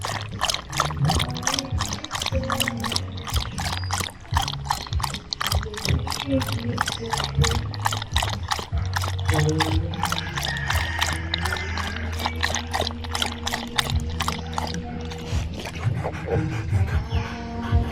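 A dog named Gray laps water steadily after a walk on a farm, a fast rhythmic series of close, wet licks running throughout, with a person talking over it.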